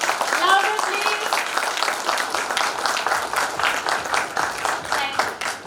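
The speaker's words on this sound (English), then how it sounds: "So till I don't hear a huge round of applause," A panel-discussion audience breaks into sustained clapping, a busy, mid-distance patter of many hands running throughout, with voices and cheers mixed in over it.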